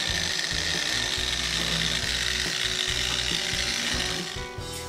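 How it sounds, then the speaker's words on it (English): Griot's Garage 3-inch polisher wet sanding a painted panel with 3000-grit sandpaper, a steady loud whirring buzz with a rough scraping texture that runs continuously and eases slightly at the end, with no voices. "grab the Groit's Garage 3-inch polisher again, and I've attached a 3000 grit piece of sandpaper on the back"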